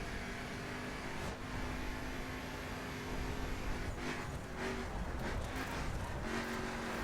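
A Mercedes AMG-GT engine under throttle in The Crew video game, a steady muffled drone with faint tonal whine that shifts pitch slightly as speed builds, no talk.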